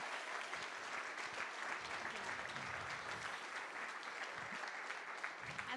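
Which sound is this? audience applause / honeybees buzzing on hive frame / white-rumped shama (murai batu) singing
audience applause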